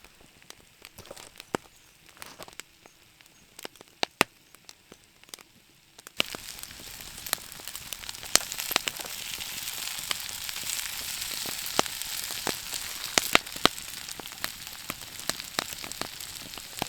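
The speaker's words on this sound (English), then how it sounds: "steak is going on" Steak sizzles in a pan at a winter tarp camp, starting faintly with scattered crackles and then jumping to a steady, hissing sizzle dotted with sharp pops, close and continuous.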